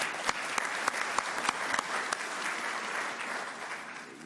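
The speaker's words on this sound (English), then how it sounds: "we'd like to give a round of applause for all your partners and loved ones that have ably supported you" Steady, dense applause from a keynote audience at the Open University Mauritius, many hands clapping together at a fairly even level throughout, with a few sharper individual claps standing out.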